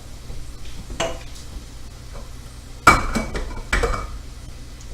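A spatula scrapes and shifts diced broccoli around a cooking dish with a few sharp clinks and scrapes at about one, three and four seconds, between quieter stretches.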